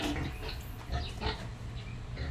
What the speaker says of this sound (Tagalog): mga baboy natin